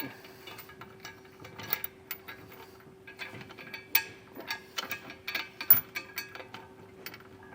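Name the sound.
starting bolts while installing a trailer hitch on a Toyota Sienna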